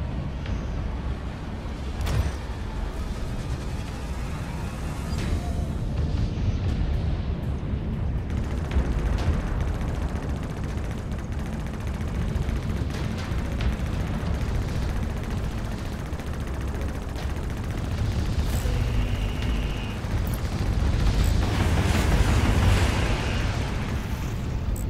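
A massive sun death explosion in the space combat game Fractured Space, a sustained, loud, rumbling blast that fills the scene with deep roaring energy and crackling debris for its full length, swelling near the end.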